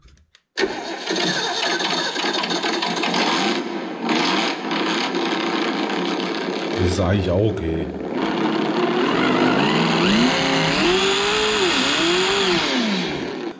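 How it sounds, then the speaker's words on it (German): A Reely RC sound module plays a synthetic V8 sports car engine sound, loud and continuous with rising and falling revs in the later part, while someone speaks over it. "Allerdings der Sound vom Sportwagen"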